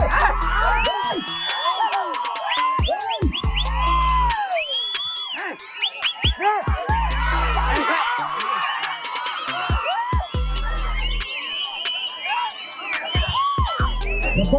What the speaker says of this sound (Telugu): ఫయాజ్ అదాన్ మంచి ఊపిరి ఉంది పోతే చప్పట్లో పిల్లలు కొట్టండి.